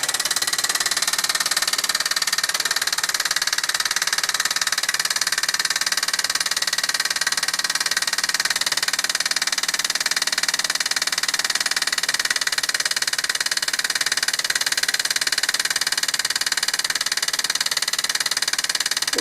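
A 1949 Mamod SE2 toy steam engine running at tick-over speed: a steady, dense mechanical hiss and rapid chattering whir, constant and close for the whole stretch with no talk.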